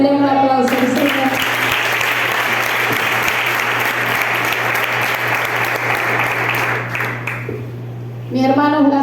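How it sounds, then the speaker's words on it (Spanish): A church congregation bursts into loud, sustained applause for several seconds, with a preacher's voice heard before the clapping starts and again as it fades out near the end. "Denle un aplauso al Señor."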